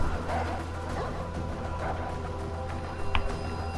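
Dogs bark and yip in Far Cry 4 amid dense game noise and gunfire, a sharp close yelp standing out near the end.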